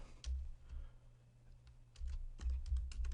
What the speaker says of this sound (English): I'm going to go ahead and type the name in here